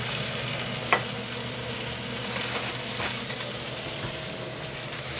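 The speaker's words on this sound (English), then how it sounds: "Sprinkle a little bit of water. Right. Now when you heat them up, they'll come extra soft." Tortillas sprinkled with water heat in a pan for steak tacos, giving a steady soft sizzle and frying hiss with faint stirring clicks, one sharp tap near the start, and no talk.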